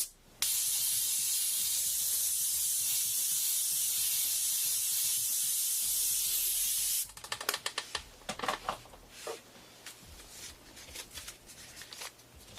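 A steady, close hiss of an airbrush spraying white paint for about seven seconds, then it stops and light clicks and handling noises follow.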